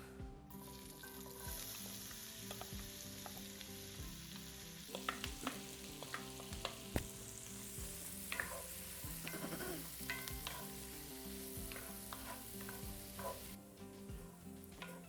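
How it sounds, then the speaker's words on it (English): Steady sizzling of vegetables sautéing in hot butter for a turkey pot pie, with occasional stirring scrapes and clicks throughout, close and continuous. "we're going to add them when the butter is sizzling"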